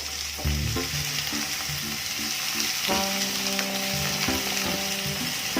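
Fruit and nuts frying in a pan for sweet biriyani, a steady loud sizzle with stirring throughout and a musical tone playing underneath.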